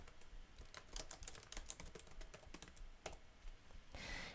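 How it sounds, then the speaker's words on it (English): Keys clatter on a computer keyboard in quick irregular bursts while a new heading is typed, close and fairly quiet, with a denser rustle near the end and no voices. "So let me type out a new heading."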